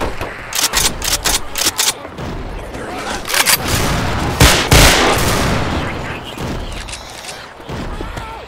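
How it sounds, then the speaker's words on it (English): Shotgun blasts in the zombie shooter game Left 4 Dead 2, several sharp loud reports in a burst followed by a heavy boom, amid busy game noise and voices. "Shotgun."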